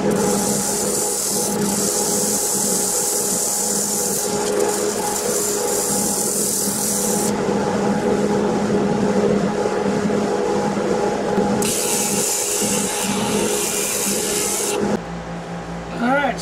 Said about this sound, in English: I'll power sand it from here.